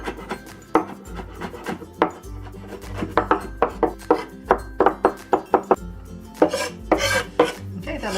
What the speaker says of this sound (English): And I'm just mincing this all together.